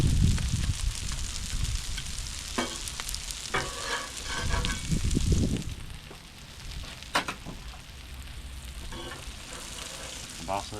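Hash browns and kielbasa sizzle steadily on a Blackstone griddle, a constant crackling hiss broken by scraping spatula strokes and louder bursts as food is turned.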